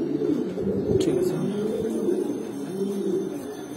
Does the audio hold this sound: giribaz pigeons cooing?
yes